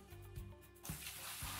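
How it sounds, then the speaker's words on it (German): Water pours in within the Gold Mining Simulator video game, a steady broadband rush that starts abruptly partway through and keeps running loud and close, with no talking. "Wasser rein."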